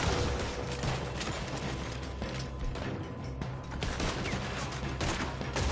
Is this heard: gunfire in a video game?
yes